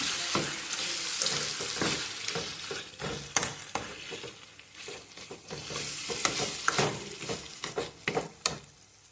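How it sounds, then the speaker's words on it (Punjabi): A tadka tempering sizzles and spits as it is stirred into saag, with loud crackling frying in bursts and scraping stirs, some water running briefly, and no talking. "ਲਓ ਜੀ ਤੜਕਾ ਆਪਣਾ ਲੱਗ ਗਿਆ"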